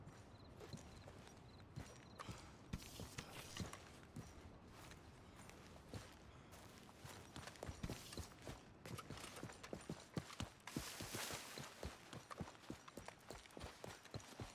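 Horse hooves in the video game Red Dead Redemption 2: rapid hoofbeats clatter on and on, a galloping clip-clop that grows busier and louder partway through, with faint mechanical clicks mixed in.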